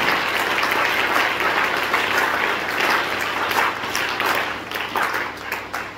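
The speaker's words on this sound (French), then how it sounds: "Et si tu peux acclamer pour Jésus." A church congregation applauding and cheering for Jesus during a French-language general retreat service, dense sustained clapping from a large crowd, loud and steady throughout with some voices mixed in.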